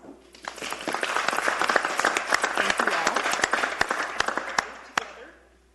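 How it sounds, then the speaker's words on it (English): A room full of people at a town council meeting applauding, dense steady clapping that builds quickly, holds for several seconds and fades out at the end. "So we'd like to give them a round of applause."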